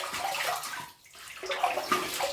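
A safety razor is rinsed under a running tap, with a steady rush of splashing water that dips briefly and picks up again, close and moderately loud.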